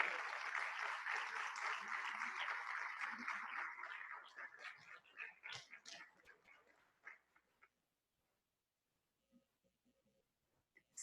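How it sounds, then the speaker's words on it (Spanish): An audience at a closing ceremony for an open-justice diploma program applauds, the clapping loud and dense at first, then thinning into scattered claps and fading to near silence, with some voices mixed in. "Un fuerte aplauso"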